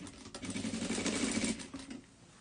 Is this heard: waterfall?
no